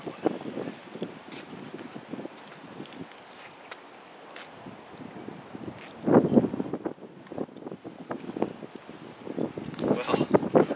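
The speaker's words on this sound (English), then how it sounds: "the wind is just ridiculous" Strong gusty wind buffets the microphone on a frozen lake during pike ice fishing, with loud irregular bursts and rustling, stronger toward the middle and end of the stretch.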